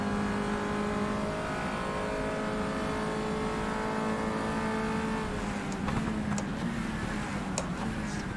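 A Peugeot 208 GTI Cup race car in the rFactor 2 racing game holds a steady, droning engine note at high revs, then shifts pitch as it slows and reaccelerates, with faint tire noise, loud and close.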